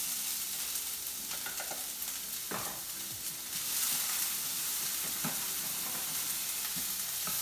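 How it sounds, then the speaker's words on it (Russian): Onions for a meatball soup frying in a pan, a steady soft sizzle with occasional scraping stirs and light clinks of a utensil, no voices. "Осталось обжарить лук с чесноком."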